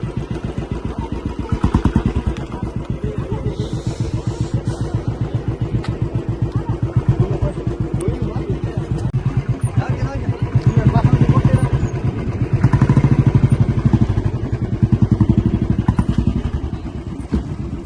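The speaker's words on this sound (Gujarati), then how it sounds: "આ બોટમાં આપણે જવાનું છે હાલ બુલેટ આપણી બોટમાં ચડાવવાની છે" A Royal Enfield Bullet motorcycle engine thumps steadily at a seaside jetty as the bike is loaded onto a boat, a continuous close, loud rhythmic idle lasting throughout, with voices and shouting over it.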